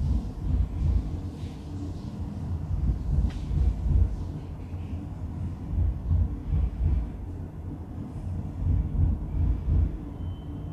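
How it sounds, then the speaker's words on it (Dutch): A train with a rake of Einheitswagen 2 coaches is shunted, giving a low continuous rumble with rhythmic swells of wheel and coach noise, heard from nearby without talk. "Je wordt gerangeerd met een stam rijtuigen van het type Einheitswagen 2."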